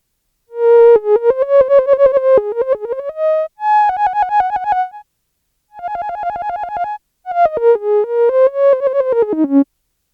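A bright, buzzy filtered sawtooth lead on Surge XT synth plays a stepwise melody in short phrases with gaps, each note swelling and fading in volume with MPE pressure, fairly loud and alone.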